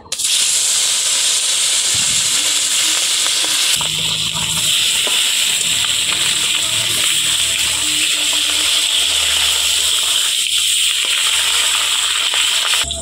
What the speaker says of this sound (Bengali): এবার মাছগুলো লাল করে ভেজে নেব।